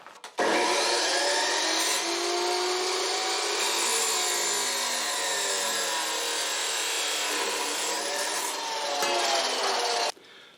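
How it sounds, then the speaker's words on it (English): Steel flat bar, about five inches long, is cut with a power tool in one steady, loud, close grinding rasp that runs unbroken for about ten seconds and then stops abruptly. "So I'm going to cut these ends off like that"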